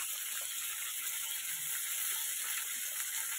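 Okra (bhindi) frying in a home kitchen pan gives a faint, steady hiss of sizzling oil with no voices.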